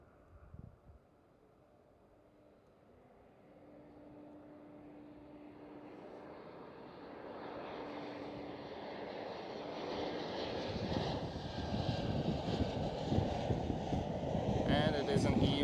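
A KLM Cityhopper Embraer E190 jet at Amsterdam Schiphol, its engine roar swelling steadily from faint to loud over about fifteen seconds as it nears, with wind buffeting the microphone.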